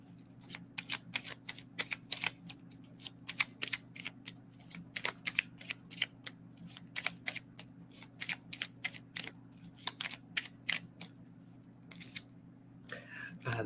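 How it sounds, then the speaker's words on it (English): Oracle cards are shuffled and handled close up in a series of quick, crisp riffling bursts and taps over a low steady hum, with no speech. "Let me turn these cards over first."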